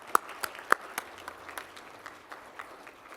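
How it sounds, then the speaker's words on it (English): A seminar audience on smart water and cities applauds, with a few sharp nearby claps at first, then softer scattered clapping from a small crowd that fades away. "can we get a big round of applause for Mo and Elaine and Steve"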